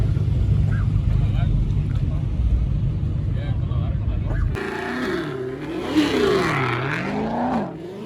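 A twin turbo LSX race car during a drag race, a loud droning engine roar that cuts off abruptly, followed by a rising and falling whine as it accelerates, with someone talking over it.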